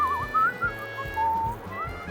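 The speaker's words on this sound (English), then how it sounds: "I whistle when I'm nervous." A person whistles a wavering, nervous tune in short melodic phrases while cooking a cheesy dude-food dish, the whistle close and clear over low kitchen noise, with pauses between phrases.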